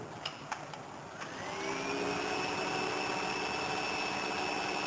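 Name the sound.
cooling fan running on Peltier cooler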